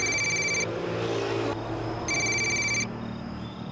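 A telephone rings in two electronic bursts separated by a pause, moderately loud over a low room hum in an indoor domestic scene, with no voices.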